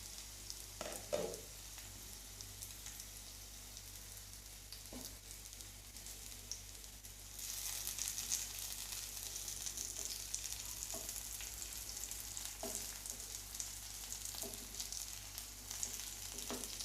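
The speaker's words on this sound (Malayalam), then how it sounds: "ഇതേമാതിരി നമുക്കിതെല്ലാം ഒന്ന് മറിച്ചിട്ട് കൊടുക്കണം." Slices of bitter gourd shallow-frying in plenty of oil in a pan, a soft continuous sizzle that swells louder partway through as pieces are turned, with a few light clicks of a utensil; fairly quiet, no talking.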